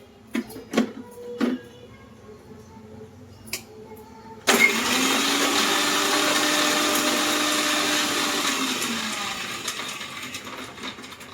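An electric mixer grinds onion and garlic into masala paste for a Koli-style bombil fish curry, starting abruptly after a few light kitchen knocks and running as a loud, steady whir to the end.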